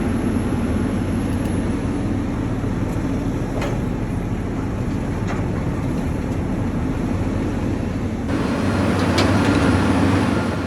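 A dump truck engine runs at a land clearing and grading site, giving a loud, steady diesel drone throughout, with a few faint clicks and rattles and no voices.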